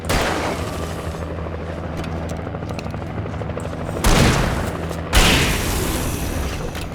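Gunfire in the video game Alan Wake: two loud, sharp booms a second apart ring out over a steady low rumble of game ambience.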